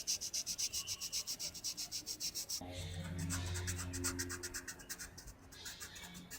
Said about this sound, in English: Probably we need more fine sanding around here